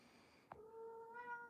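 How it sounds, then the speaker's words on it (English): A kitten gives a single clear, drawn-out meow up close after a short knock, in a quiet room. "You hear the meows?"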